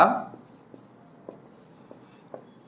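Word written by hand during a Bengali lesson on the 1971 Liberation War: a few faint, short scratching strokes spaced about half a second apart after a brief spoken syllable at the start.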